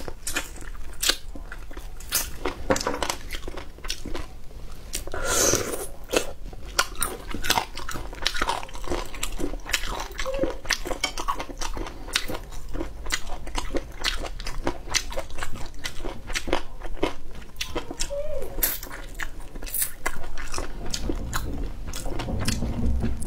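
Someone eats braised chicken feet up close with continuous wet chewing, biting and crunching, punctuated by sharper crackles and small squishy sounds throughout.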